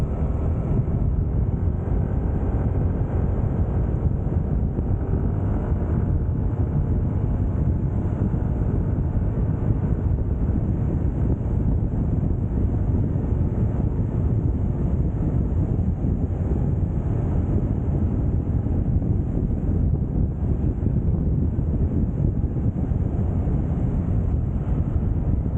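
Strong wind gusts buffet an outdoor microphone under a dark, rain-threatening sky, a steady loud low roar that continues without a break and with no talking.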